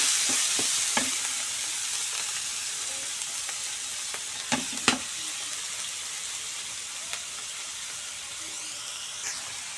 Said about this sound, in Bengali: এই যে মশলাগুলো ভাজি হচ্ছে